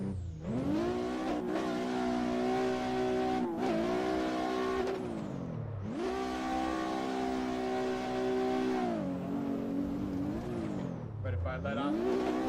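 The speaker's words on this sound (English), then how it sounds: "Now it just sounds like bouncing off the rev limiter," A drift car engine in the Assetto Corsa racing game, played in VR, holds high revs against the rev limiter in long buzzing stretches, briefly dropping and climbing again several times, loud and continuous with a voice talking over it.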